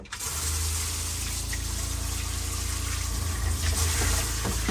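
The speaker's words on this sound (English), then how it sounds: "As you can see, it's trickling." Water trickles steadily from an RV bathroom sink faucet, a continuous close hiss with a low rumble, no voices.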